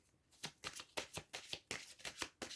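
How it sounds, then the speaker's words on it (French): Oracle cards are shuffled by hand in a quiet room, with about ten crisp riffling bursts in an even rhythm, close and alone. "on bat les cartes"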